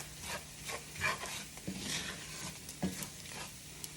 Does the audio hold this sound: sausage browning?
yes